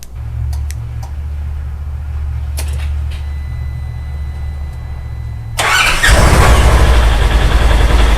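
Polaris Ranger engine fired by a remote start kit: a low idle hum, then a loud abrupt crank and catch into a roaring run up close, with no talk.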